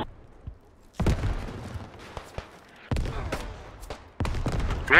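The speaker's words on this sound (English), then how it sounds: "Oh, someone shooting from behind. It's a German pistol." Pistol shots fired from behind in a Battlefield game set in a 1918 assault against German defenses, arriving as several sharp bursts of fire spaced a second or two apart amid battlefield noise.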